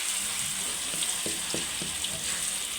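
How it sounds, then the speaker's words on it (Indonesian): Ground spice paste sautéing in a fair amount of oil for chicken risoles makes a continuous soft sizzle with a few light clicks of stirring, close and moderately quiet throughout. "Kita tumis dulu sampai harum ya teman-teman"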